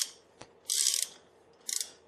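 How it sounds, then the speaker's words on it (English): A spark plug hole repair tool turned back and forth to grind the sealing seat in an engine cylinder, giving two short, harsh scraping bursts with a faint click before them, close and quiet between strokes. "what I'm going to do is wind it a bit back and forward here. See if I can grind that area."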